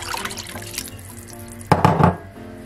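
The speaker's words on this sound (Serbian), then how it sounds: "i nalit ćemo vodu." Water is poured into a pot of simmering vegetables with peas, zucchini and potatoes: a quiet background, then a short, louder gushing splash near the end.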